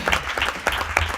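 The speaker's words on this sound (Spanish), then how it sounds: "Un aplauso para ella." Audience clapping at a radiology conference session, a short burst of scattered, fairly faint claps from a seated crowd.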